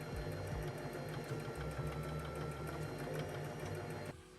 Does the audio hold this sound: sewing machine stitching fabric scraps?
yes